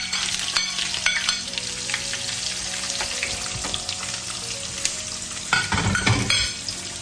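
Onions sauté in a pan with zucchini, giving a continuous close sizzle with crackling pops and clattering utensil stirs that grow busier near the end.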